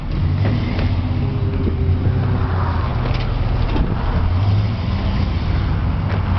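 A lifted one-ton Chevy four-wheel-drive truck drives along Highway 1, its engine a steady low rumble with road and wind noise holding constant throughout, no voices.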